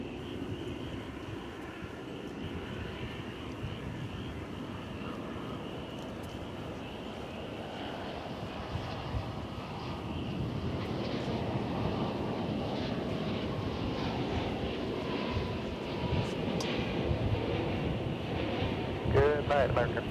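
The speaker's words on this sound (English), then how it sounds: "here comes the Turkish flight from Istanbul" A Turkish Airlines jet airliner from Istanbul at Dallas Fort Worth Airport produces a broad engine roar that swells louder midway and stays strong, with wind buffeting the microphone and voices talking in the background.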